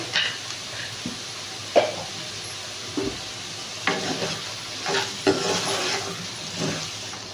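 Eggplant frying in an oiled pan with salt, a close, soft sizzle broken by intermittent stirring scrapes and clinks of the utensil against the pan.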